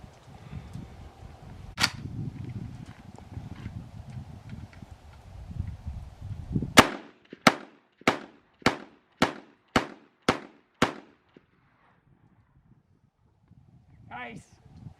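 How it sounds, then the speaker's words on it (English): Rifle shots from a Winchester M1 Carbine crack out at an outdoor range: one lone shot, then a steady string of about eight sharp reports at an even pace. The shots ring out over muffled background chatter before fading to quiet. "the Winchester, what is it, M1 Carbine was working really good out at the range, and had a little fun shooting it"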